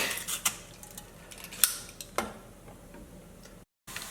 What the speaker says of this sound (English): Just going to crush the garlic.